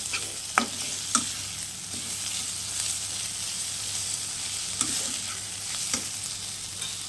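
Fried potatoes with turmeric are stirred in a pan over a steady soft sizzle, with occasional spoon scrapes and clicks against the pan at irregular intervals; no one speaks.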